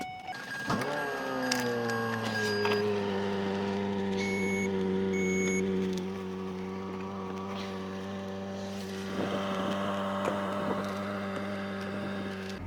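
A Ford Escape or Mazda Tribute engine cranks briefly and then settles into a steady idle with a smooth, even hum, heard close up with no talking.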